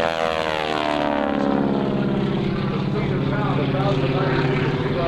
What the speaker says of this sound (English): that rasping noise you hear, are the propeller tips, the very tip of the propeller